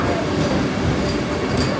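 A Vande Bharat train rushes past close by, a dense continuous rumbling roar with wheel clatter that holds loud for the full stretch, with no voices over it.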